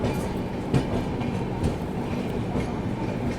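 Inside a general coach of the Vibhuti Express, the train runs with a constant rolling rumble and rhythmic clickety-clack of wheels over rail joints, steady and enveloping, with no voices.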